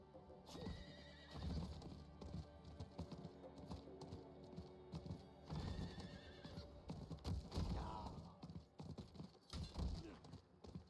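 A horse in the Diablo IV video game whinnies and its hooves clop in bursts, mixed with game music, effects and a voice talking over the top.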